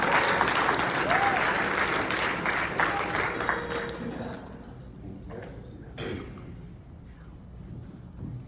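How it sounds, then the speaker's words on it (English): An audience at a youth entrepreneurship summit applauds a speaker loudly with dense clapping that gradually thins and fades out over several seconds, ending in scattered claps. "let's give it up for our first speaker, Radon."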